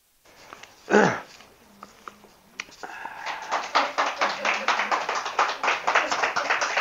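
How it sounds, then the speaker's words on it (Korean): Lecture audience clapping at a Buddhist talk, starting with a voice and a few scattered claps, then building into a rhythmic burst of applause from a small group that grows denser toward the end. "진작 이래 박수 한번 치주고 애야 힘나지"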